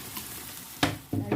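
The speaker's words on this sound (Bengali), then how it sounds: "ডালটাকে ঢেলে দিলাম।" Dal poured into a hot pan (kadai), with sizzling and stirring noises that burst up loudly in two short surges after a quieter stretch, close by.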